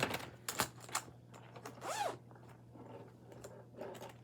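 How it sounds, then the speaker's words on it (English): A zipper on a fabric storage bag is drawn in several quick pulls, close and crisp, with soft rustling of fabric between strokes. "unzip it, lay my projects in there"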